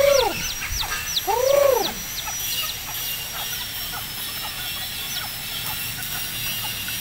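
Several loud bantam chicken calls near the start, then a steady scatter of fainter bird chirps over a continuous outdoor hum.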